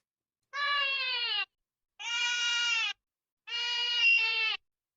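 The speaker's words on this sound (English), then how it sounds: "Whose cat is mad?" Three drawn-out, harmonically rich AI-generated angry cat yowls, each about a second long with short gaps between, clear and alone with no other sound.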